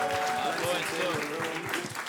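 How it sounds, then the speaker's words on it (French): An audience claps steadily through a brief, continuous burst of applause, moderately loud, with voices speaking over it. "On l'applaudit, s'il vous plaît."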